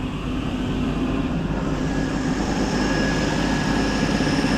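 Jeep CJ5 engine with a cracked exhaust manifold and a vacuum leak idling steadily while warming up after a revival, a continuous close, low rumbling drone with no talk.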